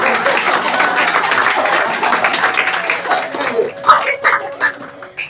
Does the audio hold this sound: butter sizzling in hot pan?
no